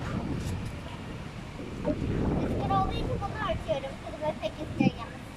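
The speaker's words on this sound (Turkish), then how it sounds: "Rüzgar da bayağı var." Gusty wind buffets the microphone in a low roar while people talk nearby.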